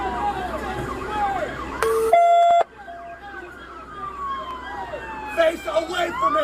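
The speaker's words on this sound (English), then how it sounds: "Got them sirens." Police car sirens captured on body camera, wailing tones that sweep up and down continuously over a street-noise background, with a brief harsh electronic burst midway, while people talk nearby.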